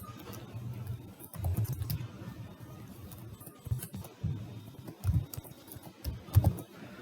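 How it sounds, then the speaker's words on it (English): Typing on a computer keyboard: irregular bursts of close, soft key clatter with short pauses between flurries and no talk. "I'll also just type here"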